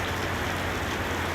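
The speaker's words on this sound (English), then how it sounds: "it is raining really hard" Heavy rain pours down steadily during a loud thunderstorm, a dense continuous hiss with a low rumble underneath, close and unbroken with no voices.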